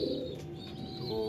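Racer pigeons coo softly in a loft, a few low throaty calls with light chirps, faint and close, with no talking.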